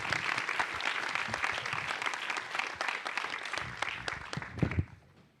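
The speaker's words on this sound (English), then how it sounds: "Another round of applause." Conference audience at Rust Forge Conf 2025 in Wellington, New Zealand, gives a steady, full round of applause that holds for about five seconds before breaking off abruptly.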